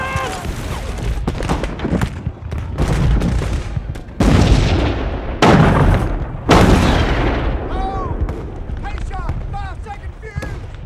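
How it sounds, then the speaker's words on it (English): A battle sound effect of a Confederate artillery battery opening fire, with repeated loud booms and crackling gunfire in bursts. Voices shout over the barrage. "as a Confederate battery on their right fired upon them."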